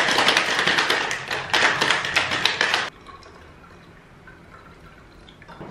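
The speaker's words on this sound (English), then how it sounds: "Whack that on and give that a good shake." A cocktail shaker of juice and honey rattles in rapid bursts of rhythmic shaking for about three seconds, then stops, leaving quiet room sound.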